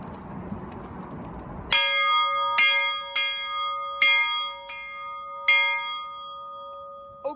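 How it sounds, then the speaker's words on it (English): The bell of Southern Pacific 4449, a steam locomotive at a rail heritage museum in Portland, Oregon, rings out clearly after a brief rumble: five or six loud, evenly spaced metallic strokes, each sustaining a bright tone, with no voices over them. "Now let's ring the bell again."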